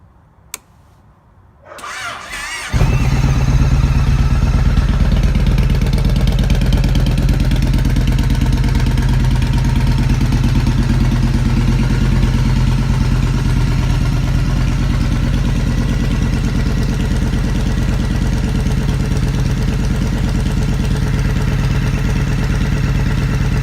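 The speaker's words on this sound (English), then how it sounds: "And I'll let you hear the Stryker." Yamaha Stryker motorcycle engine cranking over and firing up after a couple of seconds of quiet, then settling into a loud, steady, rumbling idle that continues alone for the rest of the clip.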